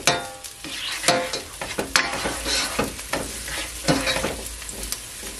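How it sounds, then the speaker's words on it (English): Mushrooms sauté in a hot pan for a vegan curry, giving a steady sizzle broken by frequent scraping and clattering stirs, close and fairly loud throughout. "I'm gonna leave it to saute for at least 15 seconds."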